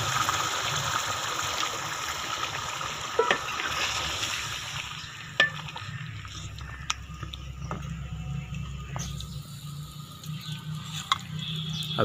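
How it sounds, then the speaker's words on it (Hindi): Water gushes into a cooking pot with turnips, a loud rushing pour in the first seconds that fades into quieter bubbling and scattered clinks. "अब इसमें पानी ऐड कर दें।"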